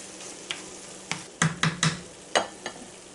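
Sloppy Joe meat mixture cooks in a pan, a soft sizzle broken by several sharp scraping stirs, three clustered close together in the middle, all near and clear with no talking.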